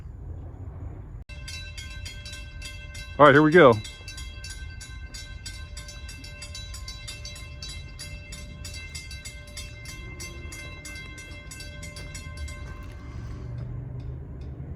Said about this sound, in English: I think this train is 72 axles, something like that. It's not very long.